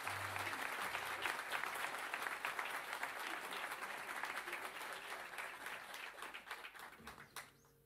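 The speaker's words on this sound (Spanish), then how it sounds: "El gran instrumentista don Jorge Prado, para darle un fuerte aplauso" A live audience applauds an instrumentalist at a music show, dense clapping that holds steady and then thins and tapers off toward the end, fairly soft overall.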